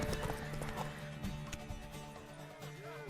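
Hooves clip-clop steadily as a horse gallops in The Witcher 3: Wild Hunt, loud and continuous over game music and ambience, with a brief whinny.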